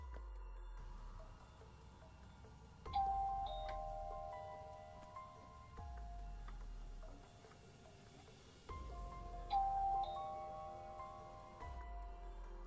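A doorbell rings twice with a clear ding-dong chime, several seconds apart, fairly quiet over a low hum.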